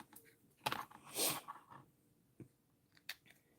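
Scissors snip through a knotted bracelet's cord in a few quiet, crisp cuts with short gaps between them, close to the microphone and with no talking.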